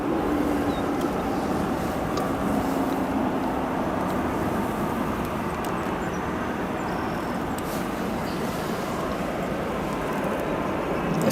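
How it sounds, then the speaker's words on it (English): A Cargolux Boeing 747-8 freighter arriving at Chicago O'Hare produces a steady, distant broadband engine roar that holds evenly throughout, with no voices. "Next, we have our Cargo Lux 747."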